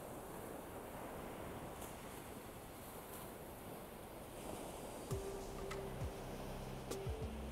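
Steady rushing surf with wind noise on a tropical beach, soft and continuous, with faint tonal hums and ticks appearing later.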